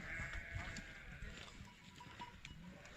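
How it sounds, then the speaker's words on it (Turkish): Sheep bleat several times at a distance over a steady outdoor background, with faint voices mixed in. "Koyunlar da artık bağırmaya başladı."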